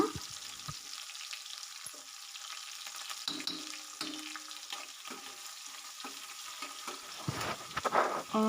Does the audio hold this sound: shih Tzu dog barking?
no